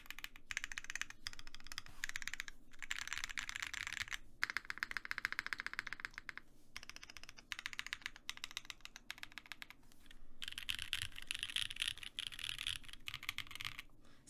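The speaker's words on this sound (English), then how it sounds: "I definitely like my clacky boards, that's for sure." Steady bursts of clacky mechanical keyboard typing, built with foam and stabilizer mods, run close and dense for the full stretch, broken by a few brief pauses, with no voices.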